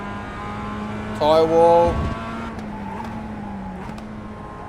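Race car in the iRacing sim accelerating out of a corner in second gear, a steady engine drone with a brief louder rising burst, while someone talks over it.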